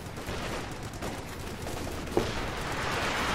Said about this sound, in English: We are seeing a lot of artillery fire come down.